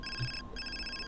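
A telephone rings in The Sims 4, two short electronic trilling bursts separated by a brief gap, clear and close.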